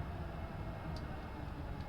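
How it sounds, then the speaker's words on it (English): A train in the sci-fi noir adventure game Lacuna gives a steady, low rumbling hum with faint high ticks, constant and even throughout. "Here's the train."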